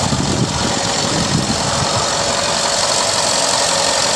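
The engine of a 2011 Ford F150 pickup truck runs steadily at idle, a continuous, even rumble with a slight mechanical rattle and no talking.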